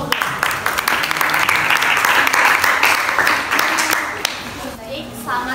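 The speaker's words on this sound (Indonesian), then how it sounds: "Beri tepuk tangan untuk kelompok 2" Applause for a student group at a school class presentation: a sustained, dense burst of clapping from a roomful of students, fading toward the end as a voice begins to speak.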